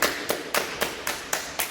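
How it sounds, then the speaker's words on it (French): A group claps in slow unison after a self-massage exercise, seven sharp, evenly spaced claps close by, each one crisp and identical, with nothing else heard between them. "On applaudit, merci."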